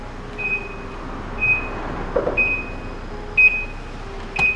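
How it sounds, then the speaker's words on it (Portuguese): A stuck car horn in a horror video game sounds in short, steady, high-pitched beeps, repeating about five times at uneven gaps over a low background hum. "Será que é a buzina enroscada?"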